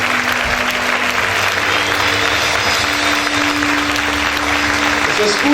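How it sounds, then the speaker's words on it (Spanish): A church congregation applauds the Lord in a loud, sustained wash of clapping, dense and continuous, with a voice speaking over it at times. "Vamos a darle un fuerte aplauso"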